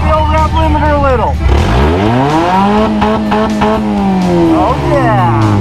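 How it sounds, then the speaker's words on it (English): A car engine revs hard and bounces against its rev limiter in a muddy off-road event, with sweeping rising and falling engine tones, a loud close roar throughout, and people's voices mixed in. "Hit the old rev limiter a little."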